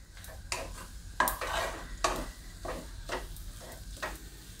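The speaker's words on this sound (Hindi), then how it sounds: "सब इस तरह से मिक्स कर लेंगे।" Haldi sabzi with green coriander being stirred in a pan: repeated scraping strokes of a spoon against the metal, steady and rhythmic, close up, with a faint sizzle underneath.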